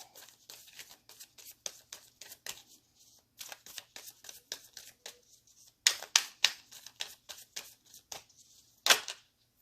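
Cards are shuffled up close in repeated bursts of papery flicks and slides, with short pauses and a louder flurry near the end, no speech.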